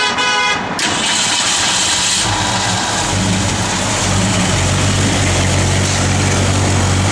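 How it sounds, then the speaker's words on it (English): A 1964 Ford Falcon Futura cranks over briefly and fires, settling into a loud, steady idle with a slight lumpy cam note, heard close up with no talking. "Have Jordy fire it up here."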